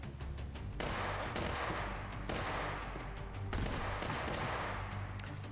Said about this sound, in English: that was a frag grenade for sure